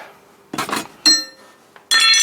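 Metal engine and gearbox mounts clink and clatter against each other as they are handled, three or four short, bright metallic knocks close by, separated by brief silences.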